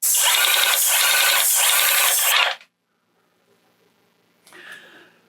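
A cordless airless paint sprayer from AliExpress blasts into a bucket in a loud, continuous hiss for about two and a half seconds, then cuts off abruptly, leaving near silence and a faint clatter.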